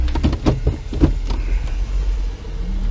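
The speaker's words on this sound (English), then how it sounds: "I can hear a car coming." A car approaches along a road beside an ancient Japanese royal tomb site, a steady low engine and tyre rumble building and holding throughout, close and fairly loud, with no voices.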